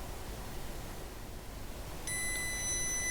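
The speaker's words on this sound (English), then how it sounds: "if I've got the meter in continuity, you can't see, but you should be able to hear it" A multimeter set to continuity mode lets out a steady high electronic beep that starts about two-thirds of the way through and holds to the end, probing connections during a repair of an Olympia ESW 100-KSR.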